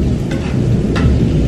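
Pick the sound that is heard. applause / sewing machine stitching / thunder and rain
thunder and rain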